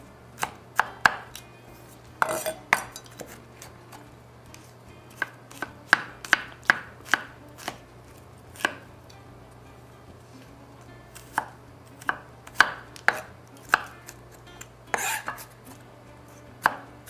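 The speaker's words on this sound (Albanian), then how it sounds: "Dhe hudrën më duhet ta pres të vogël," Knife chopping peeled garlic finely on a cutting board for a shrimp and spinach dish in white sauce, with irregular sharp close knocks in quick bursts and short pauses, alone with no talk.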